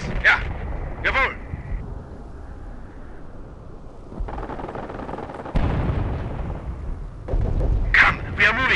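Gunfire and artillery blasts from a Company of Heroes battle in the Falaise Pocket, with heavy booming bursts and rumbling barrages building through the middle and end, mixed with shouted voices.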